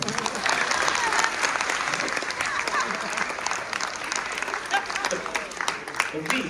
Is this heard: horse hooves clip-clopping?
no